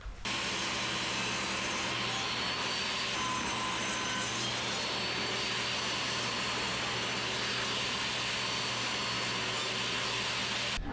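A table saw rips bevelled strips with the blade tilted about five degrees, giving a loud, steady whining drone that runs unbroken the whole time, close up and alone.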